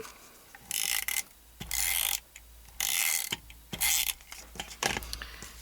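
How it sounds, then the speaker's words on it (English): Adhesive is applied to a small paper easel card in five or six distinct ratcheting, scratchy bursts, close and fairly quiet, with short pauses between them. "Now we're going to put adhesive on this section."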